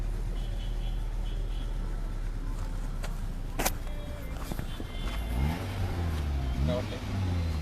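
Maruti Suzuki Swift petrol car engine idling close by with a steady low hum, then rising in pitch as it accelerates in the last few seconds, under quiet background sounds.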